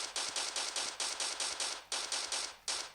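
Rapid automatic gunfire in the video game Special Force Group 2, loud bursts of evenly spaced shots with a brief pause before the firing resumes.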